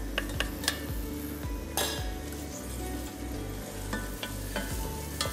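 Onions fry in a little olive oil in a saucepan for a vegetable-peel broth. A steady sizzle runs under repeated clinks and scrapes of a utensil against the pan, with no voices.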